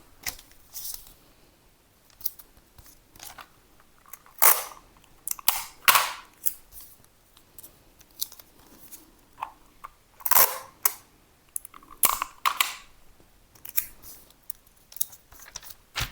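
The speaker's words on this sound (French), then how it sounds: "Là, je mets du scotch." Sharp ripping and peeling noises of sticky tape being applied to a paper sewing pattern come in short bursts with pauses between, close up and otherwise quiet.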